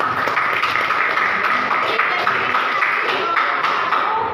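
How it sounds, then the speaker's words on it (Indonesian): Classmates applauding group 6 in a classroom, a continuous, fairly loud wash of many hands clapping together with no clear gaps. "terima kasih, tepuk tangan kelompok 6"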